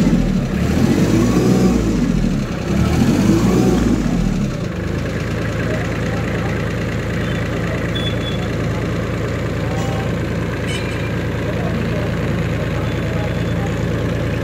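Preet Avenger 26 HP 4x4 tractor engine idling quietly and steadily throughout, with a low, even hum; for the first few seconds someone speaks over it.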